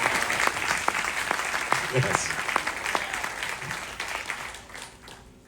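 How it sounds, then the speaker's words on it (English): An audience on an 80s-themed cruise applauds with steady, moderately quiet clapping that gradually thins out, while a voice speaks briefly over it. "That's an applause line."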